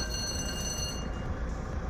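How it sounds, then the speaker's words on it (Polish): A train passes at a distance, a steady broadband rumble with faint high tonal whine fading out, recorded outdoors in a park. "Zjechał pociąg."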